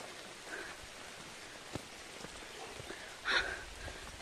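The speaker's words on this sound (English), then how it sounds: "Please stop raining." Rain falling steadily during a mountain hike to Tumjang Peak, a soft, even patter throughout with a brief louder burst near the end.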